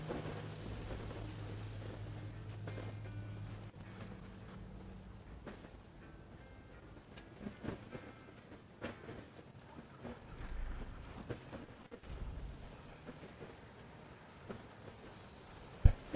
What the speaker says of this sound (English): It's raining, you know,